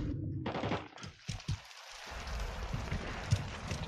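Rapid bursts of video game gunfire, close and loud, rattle in quick automatic volleys with short gaps between them, with no talking over them.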